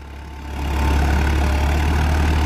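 A tractor engine runs during threshing, a loud, steady low drone that swells in the first half-second and then holds even and continuous, with no talk over it.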